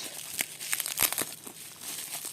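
A thin plastic packet holding vintage jewelry crinkles and rustles in short bursts, handled close by with a few sharper crackles.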